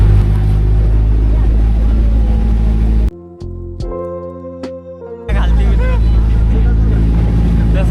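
Loud droning boat engine at sea near Khanderi sea fort, with heavy wind buffeting, briefly interrupted by a quieter stretch with a few sharp clicks before the roar returns.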